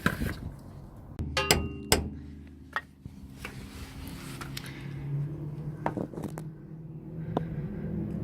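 A VW T3 lower control arm bush is hammered out: a handful of sharp metallic hammer strikes land close together early, then scattered lighter knocks and clinks over a quiet workshop background.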